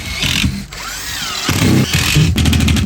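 A screw gun drives screws into drywall in two loud, close bursts of whining motor, with a short gap between them and a rising pitch sweep between the runs.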